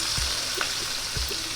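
Onions sizzle steadily in hot oil for masala okra with a close, dense frying hiss, stirred with a few soft scraping knocks.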